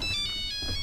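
A phone ringtone plays alone, a steady electronic melody of bright repeating tones over about a second.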